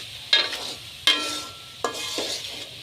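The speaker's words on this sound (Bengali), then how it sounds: "এখন আমি এখানে পাতিহাঁসের মাংসগুলো দিয়ে দিচ্ছি" Pieces of duck meat dropped into spice masala frying in a pan give four sharp sizzling bursts, each fading quickly, over a low background hum.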